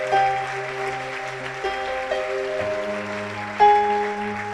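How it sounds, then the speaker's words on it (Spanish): A church congregation applauds as a steady, diffuse wash of clapping under sustained keyboard or organ chords that shift every second or so, rising briefly toward the end. "Dale un fuerte, fuerte aplauso al Señor."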